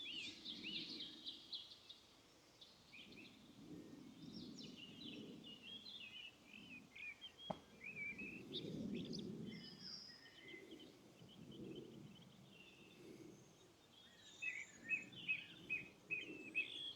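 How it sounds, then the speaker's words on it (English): Birds chirp and sing repeatedly in quiet spring countryside at Horton Kirby, Kent, light twittering calls scattered over soft ambient hiss with faint low background rumble. "and birdsong"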